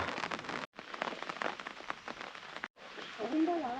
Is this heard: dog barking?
no